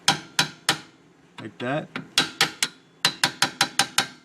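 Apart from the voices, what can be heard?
hammering a pin to knock out Hyundai Elantra trailing arm bushing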